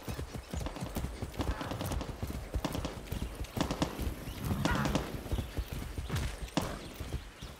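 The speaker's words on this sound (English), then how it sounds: "I'll be taking my horse from now on." In Far Cry 6, a horse gallops with rapid rhythmic hoof clip-clops that stay close and fairly loud throughout.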